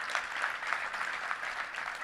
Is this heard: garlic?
no